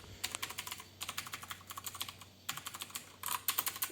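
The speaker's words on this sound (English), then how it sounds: "I'm spamming the keyboard here" A computer keyboard mashed rapidly over and over on a newly built PC that won't boot, dense fast clicking in bursts with brief gaps, close and steady, no voices.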